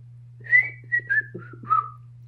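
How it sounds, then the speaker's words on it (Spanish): An old children's tune whistled up close, five or six clear notes gliding downward, over a low steady hum. "Yo chiflo una vieja melodía infantil."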